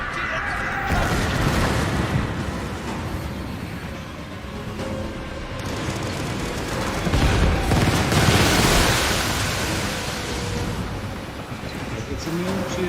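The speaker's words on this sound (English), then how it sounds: "It's immune to cannon fire." Repeated cannon fire from a ship in the pirate naval game Skull and Bones, dense booming blasts over a constant roar of battle noise and water.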